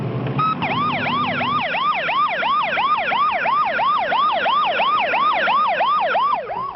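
Ambulance siren from a 1978 emergency response wailing in a steady, rapidly repeating rise-and-fall pattern, loud and close throughout, with a brief low engine rumble at the start and no talking.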